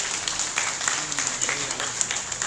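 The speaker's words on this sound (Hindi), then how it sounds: "अपने मेहमानों का जोरदार तालियों से स्वागत करें" Audience applause welcoming guests at a national harmony conference, a short burst of dense clapping with sharp individual claps standing out, close and steady.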